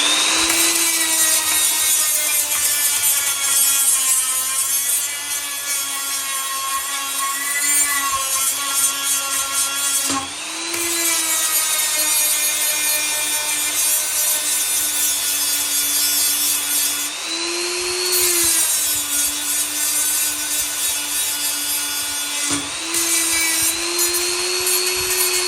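A flat wheel grinds the heel of a C-spanner with a loud, continuous, whining drone. The pitch dips and rises as pressure changes, with a few brief breaks, close up and without talk.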